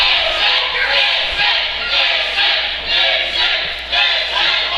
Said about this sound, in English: Fans obviously trying to get behind him here.